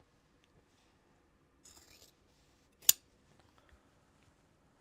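A single sharp snip of scissors through Japanese fabric, close and clear, with a few faint rustles of cloth before it and near-silence around it.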